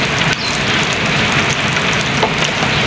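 Heavy rain falls in a constant, loud roar of drops striking surfaces nearby, with no talking.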